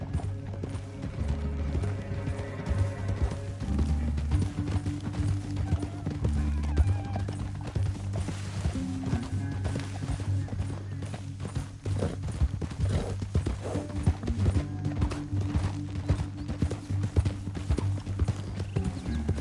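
Steady clip-clop of horse hooves in a video game runs throughout over a rich music score, with an occasional whinny; loud and continuous.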